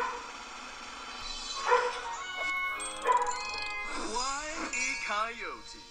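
A magic dog character from a Looney Tunes mobile game barks and yips in short cartoonish bursts, mixed with game music and chimes.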